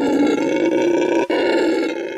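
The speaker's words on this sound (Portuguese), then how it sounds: "O ronco, segundo os cientistas, é uma forma de demarcar o território." Brown howler monkeys give a continuous, loud roaring chorus of deep, rasping calls, close and unbroken except for one short dip near the middle, with no talk.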